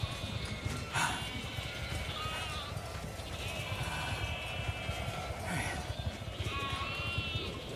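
Sheep bleating in the survival video game The Alters, a few wavering cries over a busy bed of game sounds and footsteps, moderately loud, with no talking.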